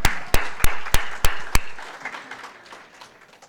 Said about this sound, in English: Can I start with a round of applause?